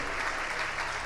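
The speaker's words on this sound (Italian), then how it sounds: "E allora un bel applauso," Audience applause for contestants receiving a special prize at a hotel school competition in Valle d'Aosta, a dense steady clapping from a crowd filling the whole moment.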